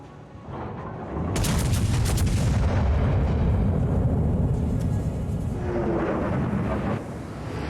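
The Soviet battleship Slava fires its main guns in World of Warships: a heavy booming salvo erupts after a quiet second and rolls on as a loud, sustained thunder that fades slowly.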